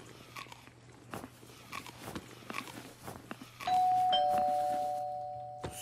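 Doorbell in the video game Streamer Life Simulator: a single clear electronic chime rings out about two-thirds through and slowly fades, after scattered soft clicks and crunchy handling noises.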